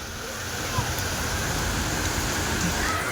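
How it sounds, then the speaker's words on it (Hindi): Heavy rain pours steadily outdoors in a cold downpour, a dense, even wash of hiss that stays at a constant level from start to finish, with no clear voices over it. "गाइस देखिए अभी फिर से बारिश स्टार्ट हो गई है और तेज़ की बारिश हो रही है"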